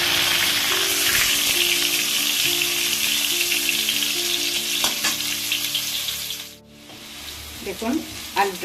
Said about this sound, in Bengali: এই যে সেদ্ধ করা আলুটা আমি এটাকে তেলে কষে নেব ভালো করে তেলে ভেজে নেব